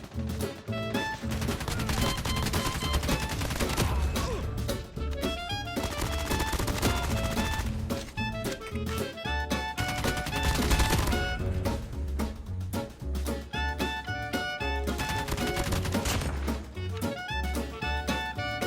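Rapid automatic gunfire in a Call of Duty Mobile match, loud and nearly continuous, with dense bursts of shots running through the whole stretch and tonal game music layered underneath.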